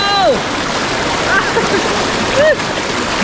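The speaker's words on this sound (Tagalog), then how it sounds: "Ang lakas ang agos! Nadadala ako!" Strong river current gives a constant loud rushing of water, with a few splashes and short voiced cries over the flow.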